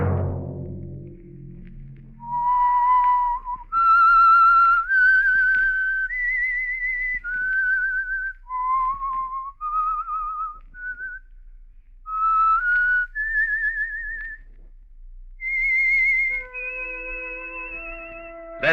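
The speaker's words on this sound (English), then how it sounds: "Let that whistle be your signal for the Signal Oil program, The Whistler" A lone whistler performs the theme of The Whistler radio mystery program, a clear, eerie melody of sustained and gliding notes, up close and unaccompanied apart from a brief low sound at the start.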